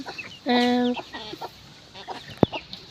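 A chicken gives a loud, drawn-out squawking cluck close by, followed by softer scattered clucks and a sharp knock, amid a small backyard poultry flock in summer heat.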